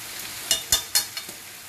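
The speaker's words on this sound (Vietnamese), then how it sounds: "Rau sắn này cứ xào với mỡ lợn là ngon nhất, là béo nhất" Cassava leaves stir-fried in pork lard in a pan give a steady soft sizzle, broken by four or five sharp scraping stirs in the middle, then a few fainter ones, close up.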